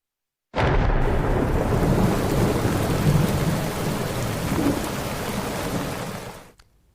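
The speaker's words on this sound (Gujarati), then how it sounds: "અનરાધાર વરસાદથી રસ્તાઓ જળમગ્ન થઈ ગયા." Heavy downpour pours steadily with rolling thunder rumbling underneath, a loud, continuous wash of rain that begins abruptly and tapers off at the very end.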